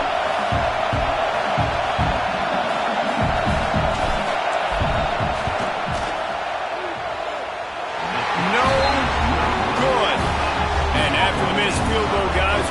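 Stadium crowd at a football game roars steadily through a field goal attempt, a dense continuous wall of noise that swells louder near the end, with commentators talking over it.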